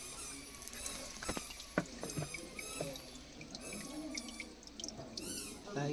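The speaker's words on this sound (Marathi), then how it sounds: "ह्याच्यातलं आता मी पाणी भरतो." Holy spring water from a kund at Rajapur in Konkan is poured into a bottle, giving faint trickling, gurgling and dripping splashes, with occasional soft sounds from people nearby.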